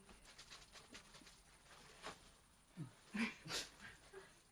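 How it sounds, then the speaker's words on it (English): A dog whimpers faintly in brief, soft whines toward the end, set against low background noise during a talk on Buddhist stories. "My dog, I guess."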